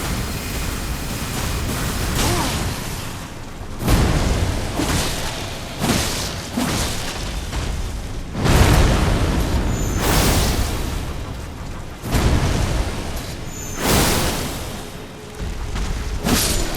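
Homing missile explosions in Elden Ring: a rapid series of loud booming blasts with whooshing tails, roughly every one to two seconds, close and heavy, with no talk.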